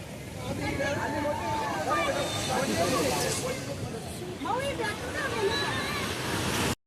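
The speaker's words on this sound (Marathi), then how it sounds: "आम्ही आता इथे पुढे आलोय आणि खूप जोरात मोठे मोठे लाटा पण येत आहे." Big sea waves break hard at Malvan beach, a continuous loud roar of surf with a crowd's voices and chatter mixed in throughout, ending abruptly.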